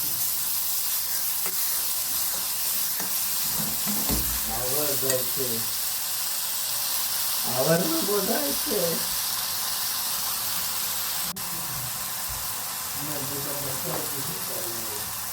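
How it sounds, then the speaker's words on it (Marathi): Ginger-garlic paste and brinjal sauté in a pan with a continuous close sizzle and occasional stirring, while someone talks intermittently over the frying. "चांगला सगळं भाजून परतून घ्यायचा."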